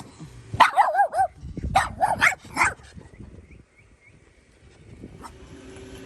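A dog at a flea market gives several sharp, fairly close barks in two quick bursts, then goes quiet as faint background noise continues.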